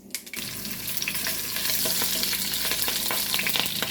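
Chopped green chilies, dried red chilies and chopped ginger hit hot oil with popped mustard seeds, giving a close, steady sizzle that swells after a brief quiet start.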